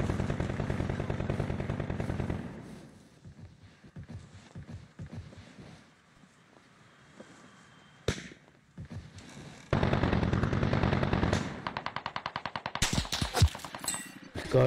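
Video game shooter gunfire, with long sustained bursts of automatic weapon fire, loud and close, broken by quieter stretches of scattered shots and footsteps before the heavy firing resumes.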